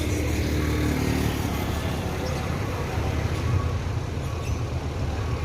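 Firkansa executive bus passing on the road, a loud low engine rumble and traffic noise that fades gradually, with a voice talking over it.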